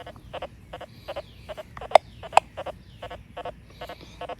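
Short electronic chirps from an XP Deus II metal detector repeat in a steady rhythm, with two sharper, louder clicks in the middle; faint and close, no talking.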